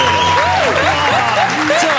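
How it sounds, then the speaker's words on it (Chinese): Studio audience applauding on a Taiwanese variety talk show, a loud, continuous wash of clapping with voices rising and falling over it. "掌声鼓励！"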